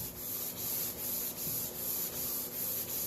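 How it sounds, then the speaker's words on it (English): Hand sanding wax off a wooden fly tying station, a steady close rubbing scrape in even back-and-forth strokes, alone and unbroken. "It's just basically a little sanding."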